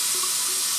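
Water runs steadily from a hospital sink fitting with no taps, a soft continuous hiss and splash heard alone at moderate level.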